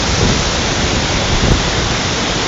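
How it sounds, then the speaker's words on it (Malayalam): Punnayar waterfall at Kanjikuzhy in Kerala sends up a steady, dense roar of rushing water that stays loud and even throughout, with no voices over it. "ഇവിടം തൊട്ട് ആ വെള്ളച്ചാട്ടം കൂടെ തുടങ്ങുവാണ്"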